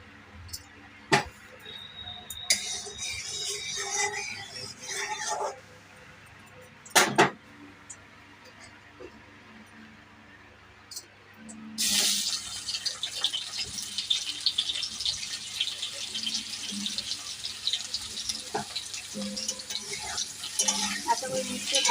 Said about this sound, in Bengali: আমি ঝিঙেগুলো ভালো করে ভেজে নেবো লাল লাল করে